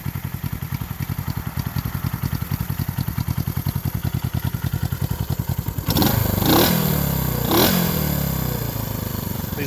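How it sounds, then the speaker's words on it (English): Exhaust of a 1971 Honda CB350 twin through its mufflers: a steady, rhythmic idle putter at close range, then a sharp throttle blip into a louder rev with a couple of surges before settling. "let's hear the sound of these mufflers. These early Honda Twins have a nice throaty sound to them."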